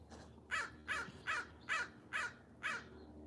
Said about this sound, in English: All right, crows.